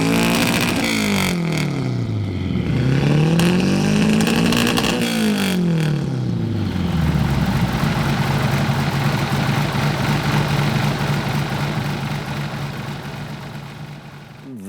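A home-built turbocharged Toyota Corolla engine runs loud and close, its pitch sweeping up and down through a couple of revs before it settles into a steady, rumbling idle.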